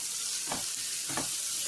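Onions with salt frying in a pan toward golden brown, a soft continuous sizzle with two brief stirring scrapes about a second apart, fairly quiet and close.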